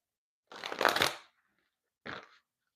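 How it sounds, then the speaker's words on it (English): Tarot cards riffle in a quick shuffle, followed after a short pause by a second, briefer shuffle; crisp and close in a quiet room. "One more shuffle."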